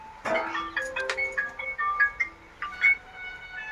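A phone ringtone plays a short bright electronic melody of chirpy tones in a few quick phrases, close and clear in a quiet room, with no voices over it.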